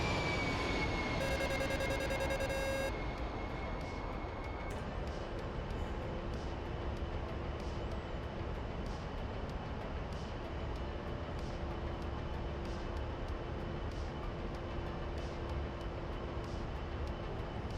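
Twin engines of an A-10C jet in a flight simulator game drone steadily at a moderate level, with cockpit warning tones sounding early on over the constant roar.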